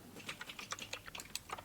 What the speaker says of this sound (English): We call this method by typing,